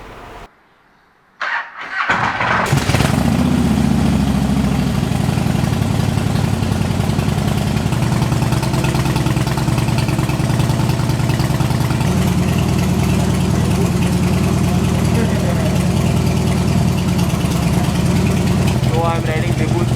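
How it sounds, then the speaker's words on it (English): A motorcycle engine catches after a couple of brief cranking bursts, then settles into a loud, steady idle that runs on continuously, close to the listener. "I'm riding Debu's bike for a very long time"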